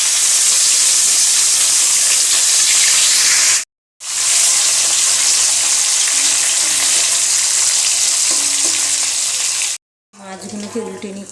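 Fish frying in hot oil in a wok, a loud, dense sizzle filling the clip close up, broken by two short silent gaps.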